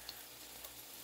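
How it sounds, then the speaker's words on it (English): Homemade keto French fries, made without potatoes, nuts or coconut, frying in grapeseed oil, giving a steady, even hiss of bubbling oil with faint crackles throughout, with no voices over it. "so we're frying these in grapeseed oil, actually, too."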